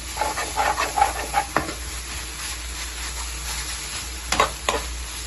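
Fenugreek leaves fry in a pan with a continuous sizzle, punctuated by scraping stirs early on and a couple of sharp clatters near the end.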